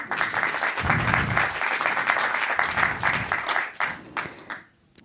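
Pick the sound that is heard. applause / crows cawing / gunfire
applause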